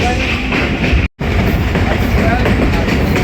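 Jaffar Express passenger train running on rails in foggy winter weather between Attock and Domeli, heard from on board as a steady, loud rumble with rhythmic wheel clatter and a brief gap in the middle.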